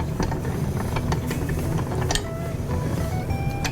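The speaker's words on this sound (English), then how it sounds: "I'm gonna go ahead and push some meat through the cylinder here." A hand-cranked sausage stuffer pushes deer meat through its cylinder, giving a steady close ratcheting, clicking gear sound with scattered squeaks and creaks under a constant low hum.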